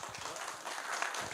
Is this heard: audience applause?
yes